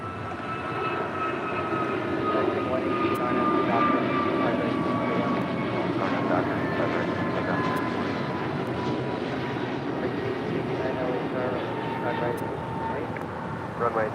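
An Alaska Airlines Boeing 737-900ER jet arriving at LAX from Seattle roars steadily and loudly for the whole stretch, its broad engine noise holding with a slowly shifting whine, while a voice talks over it.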